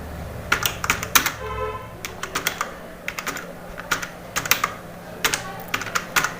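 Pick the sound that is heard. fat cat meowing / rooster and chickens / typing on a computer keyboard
typing on a computer keyboard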